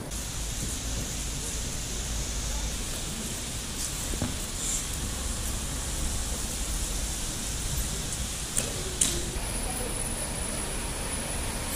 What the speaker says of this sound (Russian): Идет дождь, плюс 6 градусов